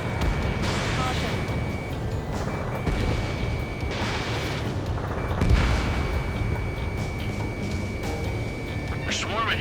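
Artillery fire from the shore in the video game Ace Combat 7, heard as repeated booming blasts and gunfire bursts over a continuous roar of aircraft and battle noise, with a steady tone running throughout.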